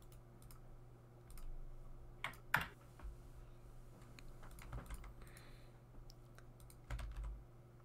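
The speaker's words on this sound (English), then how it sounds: "It's a good thing I'm decent at typing." Irregular bursts of typing on a computer keyboard, close and fairly quiet, with clusters of key clicks separated by short pauses over a low steady hum, and no talking.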